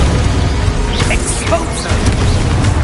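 A Confringo blast spell explosion in the Hogwarts Legacy video game, heard as loud booming, crackling bursts over a heavy rumbling game soundscape with scattered sharp impacts.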